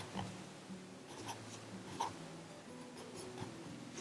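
Pen or pencil scratches softly across paper while drawing a ghost, quiet intermittent strokes with small taps, close and alone.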